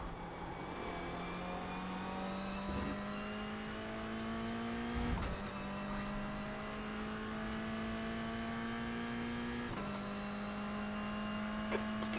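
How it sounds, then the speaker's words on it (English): Race car engine in iRacing holding a steady high drone, broken by sharp upshifts at regular intervals, with another car's engine faintly closing in behind. No one speaks. "There's a faster car approaching."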